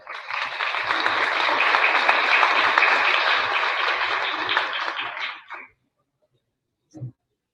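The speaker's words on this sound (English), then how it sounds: "Please give her a round of applause." Community audience at a Manitoba Muslim 25th anniversary gathering gives a sustained round of applause for a presenter, loud and even for about five seconds before stopping abruptly, followed by a brief faint noise after silence.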